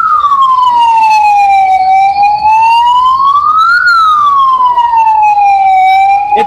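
A loud ambulance siren wails continuously at a highway toll plaza, its pitch sweeping slowly down and up in long cycles, close by and steady throughout.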